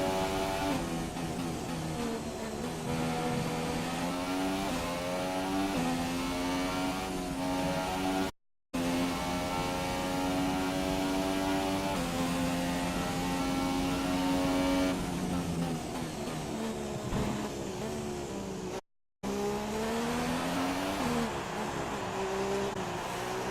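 A McLaren Formula 1 car's engine screams through a racing game lap on a tight, twisty circuit, rising and falling through gear changes, with two brief dropouts in the sound.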